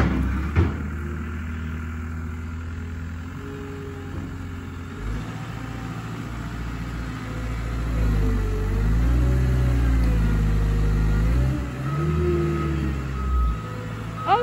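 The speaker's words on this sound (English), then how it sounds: "you can kind of get a glimpse of the loader working through there" A loader working through brush while clearing trees rumbles at a distance in a low, continuous engine drone, with the revs rising and falling in slow swells as the machine works.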